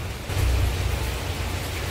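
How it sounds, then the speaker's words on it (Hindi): Heavy rain pouring down as a dense, steady hiss with a low rumbling undertone, swelling briefly louder early on and continuing without any voices. "और काफ़ी तेज़ बारिश है।"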